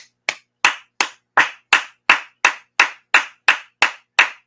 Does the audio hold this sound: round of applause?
yes